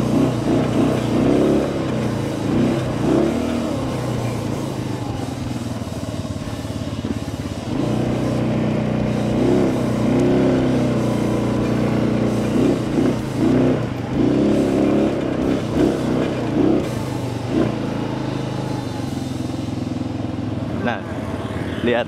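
An ATV engine rumbles continuously throughout, rising and falling with repeated revs on an extreme hill trail at Bukit Cinta, Central Kalimantan, with a voice talking over it much of the time.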